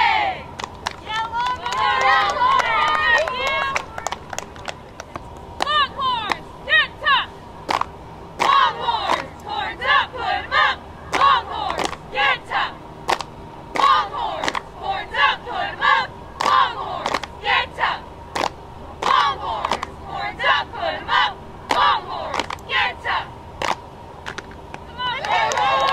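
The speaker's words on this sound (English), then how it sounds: "Great cheer from the cheer team." A high school cheer team at a virtual mascot assembly shouting a loud, rhythmic group cheer, sharp chanted bursts and claps punctuating a crowd of voices for about twenty-five seconds.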